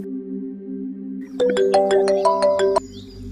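A phone ringtone plays while a conference call is being connected, a bright repeating melodic tone pattern starting after a quiet hum and lasting about a second and a half, clear and close.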